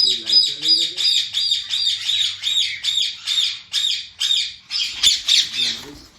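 Pet parrots squawk close by in a rapid, repeated series of harsh, rhythmic calls with chirpy overtones, continuing loudly throughout with a few faint human vocal sounds mixed in.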